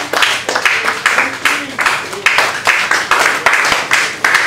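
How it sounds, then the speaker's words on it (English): Rhythmic group clapping at a birthday celebration during a studio unveiling event, sharp regular bursts of hands beating in unison at close range, with a voice briefly audible between the claps. "Okay, let us clap for her, babe."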